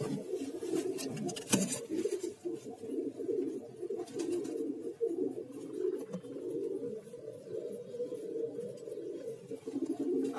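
Pigeons in a nest holding two small chicks and eggs, giving a steady, close, continuous low cooing and soft murmuring throughout, with a few brief sharper rustles near the start.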